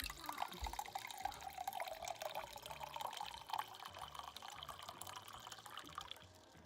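Water runs steadily from the tap of a newly arrived Berkey gravity water filter into a container, a soft continuous trickle and splash at close range.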